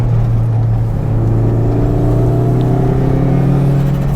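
A Toyota MR2 Turbo engine drones steadily and loud inside the car, its note rising gradually through a rev-matched downshift on a mountain road, with no talk over it.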